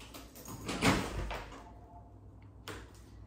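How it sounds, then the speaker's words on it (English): An indoor door opens in a warm room during a home Pilates session, a soft rustle and brief thump, fairly close, followed by faint shuffling and quiet room tone. "I'm just going to open the door."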